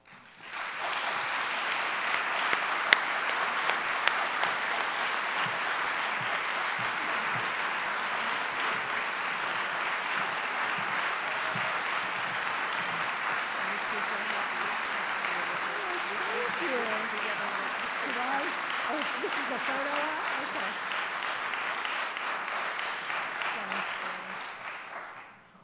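A large audience claps steadily for about twenty-five seconds to welcome art historian Linda Nochlin as she receives an award. The applause is dense and even, with a few voices rising above it near the end.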